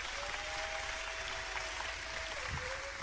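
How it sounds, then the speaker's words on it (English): Crowd at a comedy show applauding and cheering, a faint, dense wash of clapping and noise heard from a distance for a few seconds. "Round of applause."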